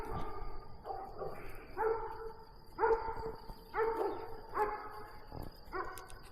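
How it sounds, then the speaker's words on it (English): Several dogs bark in the distance at a mountain spot in Villard de Lans, France, sending out repeated bursts of barking and yelping that come and go over a steady hum. "Oh, I can hear the dogs all the way over."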